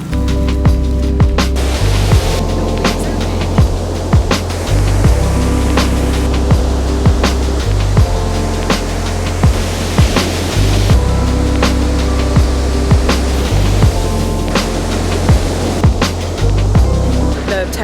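Loud, continuous roar of ocean surf at a San Diego beach with surfers, waves rolling and breaking nearby, a constant wash of water filling the scene.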